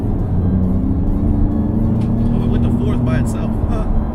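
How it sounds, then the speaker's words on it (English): A 2017 Ford Raptor pickup with automatic paddle-shift gearbox cruising at 53 mph in fifth gear, giving a steady close engine drone and road rumble that stays even throughout, with a voice talking over it. "I'm doing 53 miles per hour and we're in 5th gear now."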